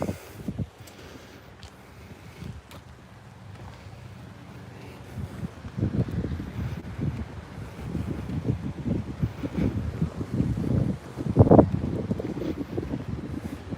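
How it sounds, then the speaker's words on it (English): Wind gusts buffet the microphone outdoors at Disney Springs in uneven rumbling bursts that grow stronger midway, with faint background ambience. "There is a bit of a breeze."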